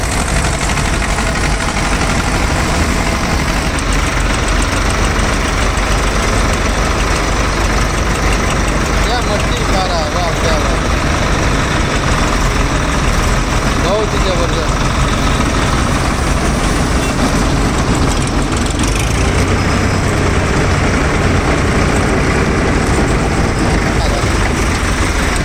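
A mud loader machine's engine runs while it fills a trolley with soil: a loud, steady, low diesel drone with continuous rumble throughout, and a voice talks over it.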